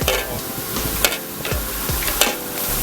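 Spicy eel stir-fried in a pan at a Friday market stall in Kham Thale So, Thailand: a close, steady sizzle with sharp spatula scrapes against the pan repeating roughly every half second, no voices.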